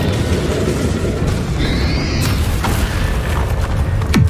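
Magical spell blasts from Bombarda and Confringo in the Hogwarts Legacy video game, loud booming bursts over a dense, continuous rumble, with a sharp whooshing pop near the end.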